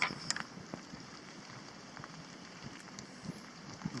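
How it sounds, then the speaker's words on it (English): Rain falling on a rocky Appalachian Trail descent in Virginia, a soft steady patter of drops with scattered sharper taps, fairly quiet and continuous with no voices. "Unfortunately, it's still raining."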